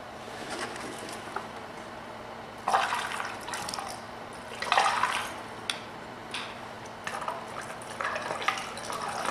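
Water rinses through a car battery during reconditioning, a steady splashing wash with three louder surges of pouring and sloshing spaced a couple of seconds apart, close by with no talking.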